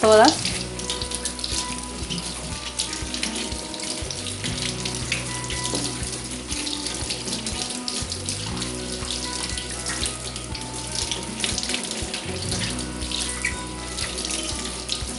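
Tap water runs steadily from a kitchen faucet while onions are washed, a continuous close splashing and rushing stream lasting throughout with faint handling clatter underneath.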